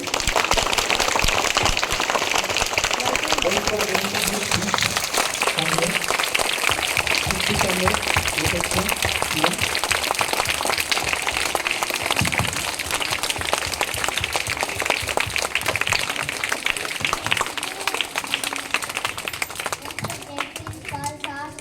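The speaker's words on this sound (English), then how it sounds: "Let us welcome them with your huge round of applause." Students at a school National Mathematics Day celebration applaud steadily and loudly for over twenty seconds to welcome speakers, a dense crowd of clapping with children's voices chattering underneath.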